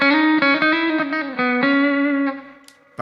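A sustained electric guitar chord through a Fender Mirror Image Delay pedal on a very short setting rings with a tight delay, quick repeats smearing into a brief ambient tail that fades out.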